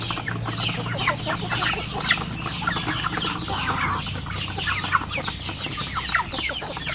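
A flock of Rhode Island Red chickens clucks busily and continuously at close range during feeding time in a rural yard, overlapping chatter with occasional sharper calls and a low steady hum underneath.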